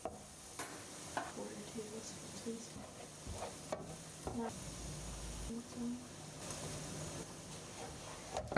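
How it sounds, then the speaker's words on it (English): Butter, onion, cayenne, mustard powder and flour stirred together into a roux in a pan for mac and cheese, with a soft scraping stir and low sizzle running steadily, close and fairly quiet, with occasional clinks. "Add cayenne pepper, mustard powder and flour and stir that together to make the roux."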